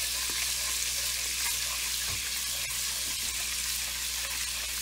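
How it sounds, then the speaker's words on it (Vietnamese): Garlic frying in butter in a pan with a steady, close sizzle, stirred as it cooks for a creamy crab dish; a few soft utensil scrapes sit on top of the continuous hiss, with no talking. "Now the garlic is added to the butter."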